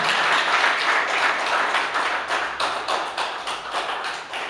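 Audience at an art exhibition opening applauds to welcome a guest artist, a dense, steady wash of many hands clapping that runs the whole time and thins slightly toward the end.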